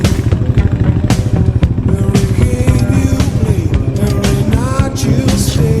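A motorcycle engine sputters and drones continuously, loud and close, with uneven clattering pulses as it struggles, while faint voices chatter in the background.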